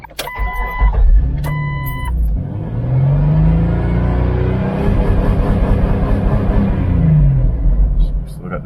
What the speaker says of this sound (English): We're gonna rev the engine while the Jeep is still in park.